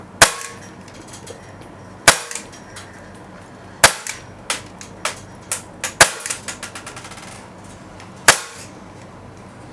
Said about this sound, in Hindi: सो ये जो है सारे फायर हो गए और पीछे आके ये लॉक हो गया।